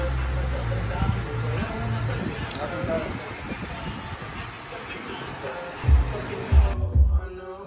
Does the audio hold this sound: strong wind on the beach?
no